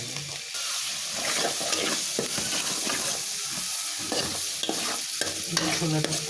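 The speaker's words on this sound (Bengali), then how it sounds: "ভালো করে কষিয়ে নেব তারপরে এখানে মশলার মধ্যে লাউটা ঢেলে দেব" Steady sizzling and frying of spices in a hot pan, before bottle gourd is added, with a spoon stirring and scraping through it, continuous and close.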